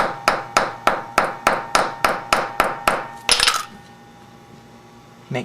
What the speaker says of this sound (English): Then hammer it down.